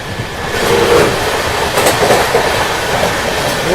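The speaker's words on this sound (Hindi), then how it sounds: "भुवनेश्वर तेजस राजधानी एक्सप्रेस।" Bhubaneswar Tejas Rajdhani Express passing on Indian Railways, a steady loud broadband rush of rolling wagons with faint clickety-clack of wheels over rail joints throughout, close by and without talk.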